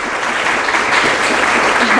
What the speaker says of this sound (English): let's just give them a hand of applause